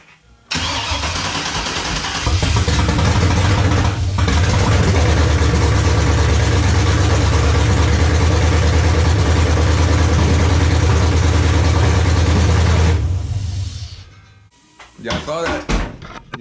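A 1994 Chevy C1500 with a swapped 6.0L LS V8 starting for the first time, cranking into a loud, close, rumbling idle that runs steadily before shutting off, with voices around it.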